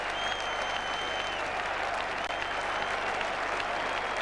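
Large crowd at an England v Australia Test match at Edgbaston, 1981, applauding with steady, dense clapping and a low roar of many voices, sustained and loud throughout.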